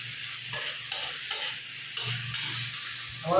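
Onions frying in a pan for khichuri, with spices being stirred in; a steady sizzle runs throughout while a spoon scrapes and stirs in short repeated strokes, close and fairly quiet.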